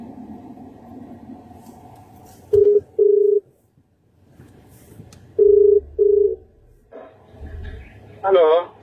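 A phone keypad sounds a series of short, clear dialing tones in pairs, separated by pauses, over a low background hum and murmur.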